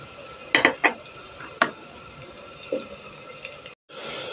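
Cardamom, cinnamon and bay leaves are dropped into hot oil with lightly browned onions, giving a few close clattering stirs and scattered sizzling crackles with no talking.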